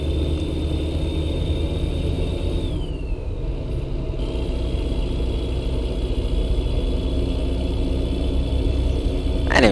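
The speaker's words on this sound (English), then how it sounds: "It's got a throaty sound, this W900 does." A Kenworth W900 truck in American Truck Simulator drones along at low speed, its throaty engine giving a steady, moderate rumble with a faint high whine that dips partway through; no talk is heard.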